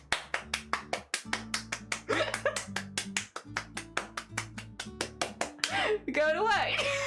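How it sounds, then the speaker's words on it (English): Rhythmic hand claps from a group during a livestream, about two claps per second, fairly close and steady, with talking and cheering voices mixed in and rising near the end. "Everybody clap your hands."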